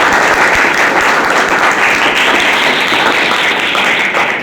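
Loud, dense applause from an audience welcoming a guest at a college event, a continuous roar of many hands clapping close by for the whole stretch.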